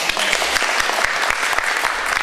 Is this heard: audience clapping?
yes